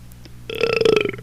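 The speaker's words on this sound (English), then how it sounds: "oh, I hate that burp" A single short, loud burp with a guttural, pulsing rattle, heard alone without speech.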